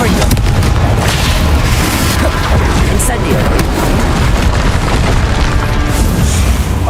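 Confringo blasting spell explosions in Hogwarts Legacy, a loud, continuous stream of booming blasts and rumbling detonations filling the whole stretch, with voices talking underneath.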